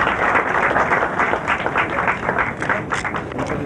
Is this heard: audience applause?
yes